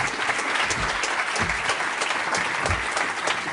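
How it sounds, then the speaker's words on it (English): Applause from a live audience at a talk fills the room, a dense, steady patter of many hands clapping at close range throughout without a break. "Round of applause."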